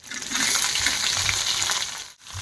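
Chopped ivy gourd hits a hot tempering of mustard seeds, chana dal, urad dal, curry leaves and dried red chillies, raising a loud, steady, close sizzle that dips briefly near the end.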